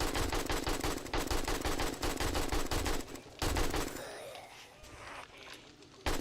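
Rapid automatic gunfire from a weapon shooting a zombie in the survival game 7 Days to Die, sustained loud bursts for about three seconds, then a pause and sparser shots fading against background game noise.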